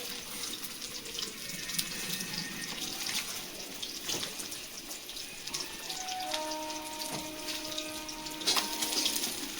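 Tap water runs in a steady, soft hiss, faint and continuous, while tengra fish is being prepared for a steamed bhapa dish, with light clinks of utensils near the end.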